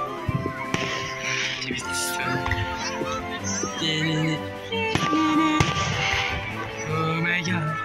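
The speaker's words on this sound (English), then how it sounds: "freaking fireworks, they're amazing" Fireworks bursting at a Fourth of July celebration, several loud booms and crackles through the clip, mixed with busy music and voices in the background.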